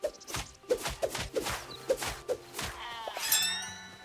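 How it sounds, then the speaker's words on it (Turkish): Lambs in the video game Hytale give a series of short, repeated bleats over soft footsteps, ending in a brighter chiming game sound. "Mesela burada kuzular var."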